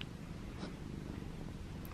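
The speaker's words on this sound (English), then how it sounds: "And one of them being stroking my little kitty." A pet cat purrs softly and steadily while being stroked, a low continuous rumble close by at low volume.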